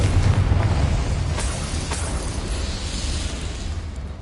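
Confringo fire spell blast in Hogwarts Legacy, a loud booming explosion with a rumbling tail that decays over a few seconds.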